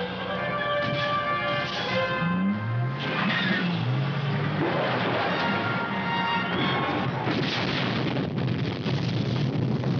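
A cannon explosion effect fired on the film set of Raiders of the Lost Ark (1981) gives a loud, sustained rumbling roar with mechanical whine and rattling layered over it, filling the scene without any speech.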